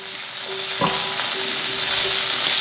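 Melted margarine sizzles in a pan, a loud close steady hiss with a faint brief knock of a utensil partway through.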